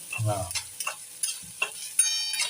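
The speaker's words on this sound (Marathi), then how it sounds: "हे असं छान तेलामध्ये परतून घ्यायचं ना. एकदम तसं लालसर, थोडस ब्राउनिश." Something sautéed in oil until reddish brown, with intermittent stirring scrapes and clinks of a utensil over a light sizzle, close and fairly distinct.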